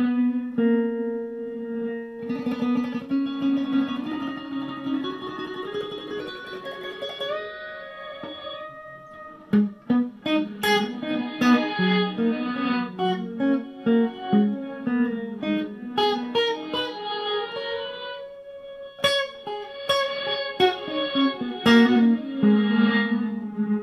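An electric guitar is played through an Electro Harmonix Holy Grail Max reverb pedal, with sustained chords and then picked notes trailing into a lush reverb wash, loud and alone with no voice.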